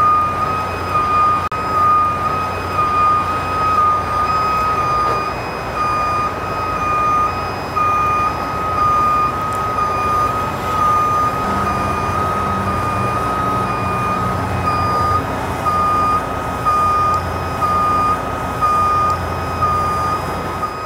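A Century 1135 coil carrier maneuvers around a corner carrying a 37,500 pound coil, its steady pulsing reversing beeps sounding over a low engine rumble for about twenty seconds, with no talking.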